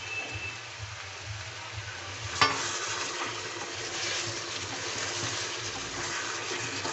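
Steady sizzling and stirring of chicken and potatoes frying in a pan for a spicy chicken curry, a continuous close hiss with one sharp scrape of the spatula partway through.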